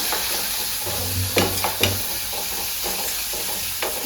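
Curry leaves and shallots sizzle and fry in a hot pan while being stirred for a Kerala fish curry, a steady close hiss broken by a few scraping spoon strokes.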